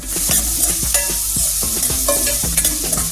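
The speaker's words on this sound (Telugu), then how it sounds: "ఉల్లిపాయలు పచ్చిమిరపకాయలు ఇలా వేడి నూనెలో వేసేసుకొని చక్కగా కలిపేసి" Onions and green chillies fry in hot oil for a mutton curry, with a loud continuous sizzle and repeated sharp scrapes and knocks of a stirring spoon against the pan. No one speaks.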